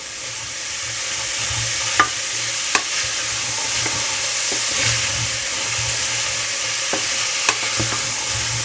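Vegetables sizzle steadily in a pan for the Murcian tapa magro con tomate, a loud constant frying hiss with occasional clacks and scrapes of stirring, close up and without talking.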